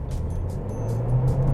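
Mercedes CLA 250e plug-in hybrid kicking down through several gears, its engine note rising into a stronger drone with a low rumble underneath, close and steady.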